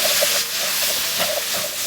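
Pepper beef steak with onion, capsicum, celery and green chilies stir-frying over high heat, a dense continuous sizzling hiss with faint rhythmic pan clatter underneath.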